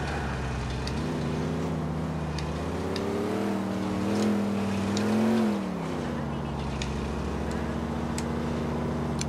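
Car accelerating in GTA 4, engine note climbing and revving with rising pitch over several seconds before dropping off, amid game background noise with scattered clicks.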